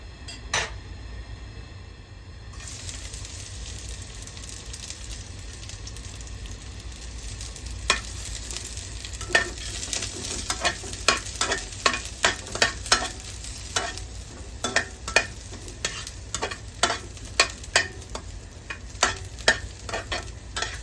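Cabbage and fatty pork stir-fried in an oiled pan: a steady close sizzle runs throughout, with a growing string of sharp spatula scrapes and clinks against the pan in an irregular rhythm over the second half.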